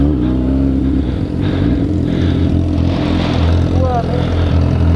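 A BMW S1000 motorcycle engine drones and revs on a dirt trail, loud and steady throughout, with people talking over it.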